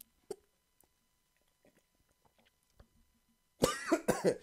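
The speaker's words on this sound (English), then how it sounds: "sounds like you got a bit of a cough there" Two harsh, close coughs burst out together near the end after a stretch of near silence with faint scattered sounds.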